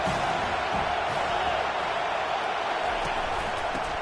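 A college football stadium crowd at a Penn State game makes a dense, steady roar that fills the whole stretch without a break, broad and distant-sounding, with no clear voices standing out.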